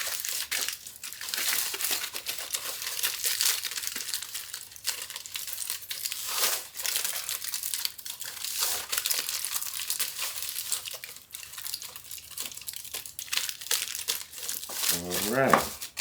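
Aluminium foil crinkles and crumples continuously inside a cheesecake pan, close and fairly loud, with short bursts of rustling throughout and a voice briefly near the end.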